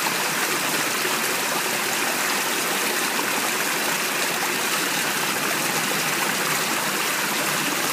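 Spring water flows steadily in a stream, a constant close rushing and trickling wash that never lets up, with no voices.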